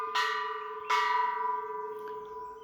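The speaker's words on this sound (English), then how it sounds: "excuse the bells" Bells at a Thai temple ring out in two clear metallic strikes with long ringing decays, then a fainter third tap near the end, moderately distant and heard alone.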